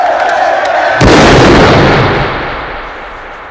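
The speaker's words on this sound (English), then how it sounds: "And then we see Luther pointing a revolver, and then he fires it." A revolver fires a single loud, booming gunshot in a scene from the film The Warriors, the blast hitting hard and then decaying into a long rumbling tail over steady background noise.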